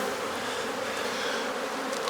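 Honeybees buzz steadily and densely around an opened hive during an inspection, a continuous close swarm drone with no pauses.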